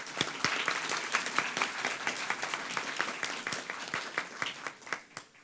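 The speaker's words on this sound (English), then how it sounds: "Let's give them all another round of applause." An audience at a women's history celebration gives a round of applause, dense steady clapping from many hands that holds for several seconds and thins out toward the end.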